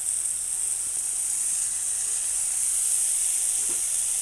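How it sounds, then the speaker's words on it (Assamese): Tomatoes fry in oil in a pan with a steady, even sizzle and soft hiss, close and continuous with only faint stirring touches. "আৰু বিলাহীৰ পৰা তেলটো ওলোৱালৈকে মই ভাজি থাকিম।"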